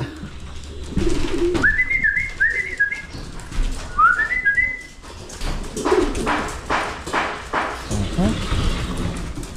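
Pet pigeons in a loft coo in short rising calls, several in a row in the first half, close by over steady background noise and some shuffling, with a person speaking briefly.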